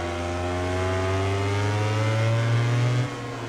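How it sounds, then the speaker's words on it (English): A Honda racing motorcycle engine revving in the MotoGP 19 video game at Phillip Island, a loud steady high-pitched whine holding and rising before dropping off near the end. "I can still hear that Honda though"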